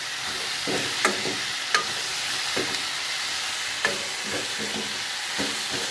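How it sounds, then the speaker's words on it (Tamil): Tomatoes, potatoes and onions frying in a pan while being stirred, a steady sizzle with occasional sharp spatula scrapes and taps, close and fairly even throughout. "தக்காளி போட்டு ஒரு கிண்டு கிண்டுறோம்"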